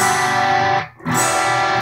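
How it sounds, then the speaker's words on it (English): Electric guitar played through heavy distortion on the bridge pickup with the volume up, a thick sustained saturated tone that briefly drops out near the middle before ringing on loud and close. "Lots of distortion, plenty of distortion."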